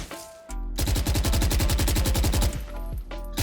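A Phantom rifle in VALORANT fires a sustained automatic spray, a rapid, even burst of roughly twenty loud shots lasting about two seconds, followed by a short pause and a few more game sounds.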